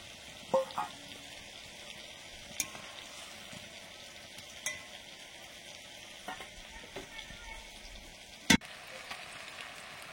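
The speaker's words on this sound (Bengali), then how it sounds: "পোস্ত ফুটে গেছে। এবারে ভেজে রাখা রুই মাছগুলো দিয়ে দিলাম।" Fried rui fish pieces going into bubbling poppy seed paste in a pan, a soft steady simmer and sizzle with a few sharp clinks of a spoon or utensil, close and moderate in level.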